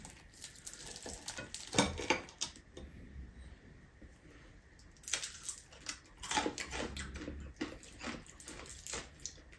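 A whole chicken deep frying in hot oil gives a steady, crackling sizzle with bursts of bubbling and spattering, plus occasional louder pops and scraping stirs. No voices are heard.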